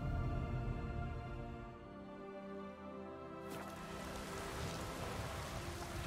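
Steady rain in the video game The Witcher 3 patters and hisses across the whole stretch, swelling into a broader, denser wash partway through, with no voices present.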